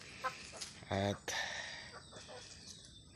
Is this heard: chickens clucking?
yes